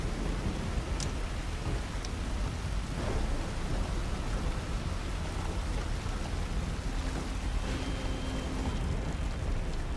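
Heavy rain pours down steadily in a thunderstorm in the video game Call of Duty: Modern Warfare 3, with low rumbles of thunder rolling underneath the constant hiss.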